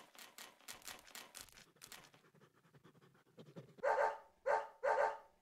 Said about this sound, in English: That fucking dog.